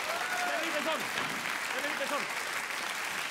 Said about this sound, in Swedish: då det kommer applåder